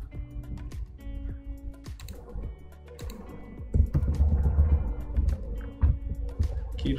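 Computer keyboard keys pressed during a Photoshop tutorial, irregular sharp clicks and taps scattered through the clip, close to the microphone, with some heavier thumps and muffled background sound.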